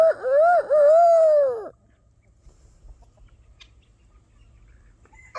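A rooster crows on a farm where guinea fowl roam: one long, loud, wavering call lasting under two seconds, close by, then quiet rustling ambience with no talking.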